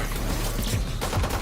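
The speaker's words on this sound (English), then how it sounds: "They shoot guns." Gunfire in a Valorant game trailer, a dense burst of shots and impacts under layered music and effects, loud throughout the short span.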